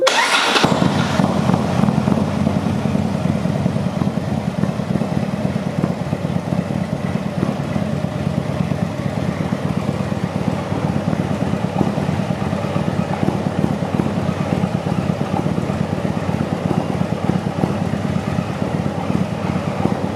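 A 2008 Harley Davidson Ultra motorcycle cranks and fires, then settles into a loud, steady, close rumbling idle that continues for the rest of the clip.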